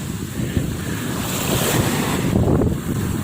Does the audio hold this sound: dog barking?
no